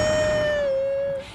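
A rescued cat lets out a single drawn-out meow, near and clear, tapering off at the end, after being saved from a burning home during Hurricane Wilma.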